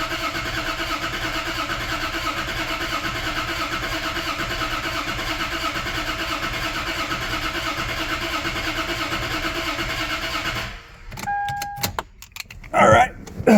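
Toyota 2JZ engine in a car with a crank-no-start fault, cranking steadily and loudly for about ten seconds without catching, then cutting off into short scattered bursts.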